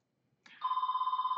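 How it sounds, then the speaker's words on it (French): A telephone rings indoors during a French Bible teaching talk: a bright electronic trill starts abruptly and pulses rapidly and evenly, loud and close, with no voices over it. "Excusez pour le téléphone"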